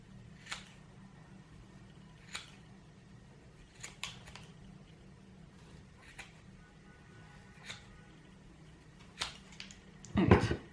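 Scissors snip through macrame cords while old slippers are being decorated, a handful of sharp isolated cuts spaced a few seconds apart over a low steady hum, with a louder cluster of cuts at the end.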